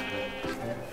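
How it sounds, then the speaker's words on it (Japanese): Sheep bleating in Minecraft, a single sustained wavering bleat lasting about a second, close and clear over a light game background. "お、羊いた。"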